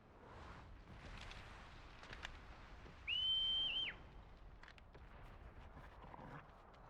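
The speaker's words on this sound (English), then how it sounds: "Naturally, they didn't notice the whistling." A single clear, sustained whistle rises out of quiet in-game ambience, held for under a second at a steady pitch, with scattered soft thuds and footsteps around it.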